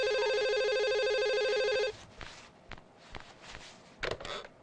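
A telephone rings in a steady electronic tone for a couple of seconds and then stops, followed by faint thuds and shuffling movement in a quiet room.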